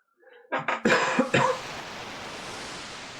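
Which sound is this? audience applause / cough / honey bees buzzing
cough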